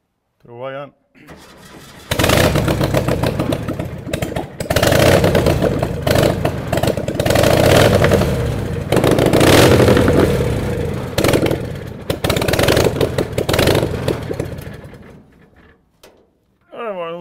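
An engine starts with a few short cranks, then catches and runs loud and close through its exhaust pipes, revving unevenly and rough for about twelve seconds before it cuts out, with people talking briefly before and after.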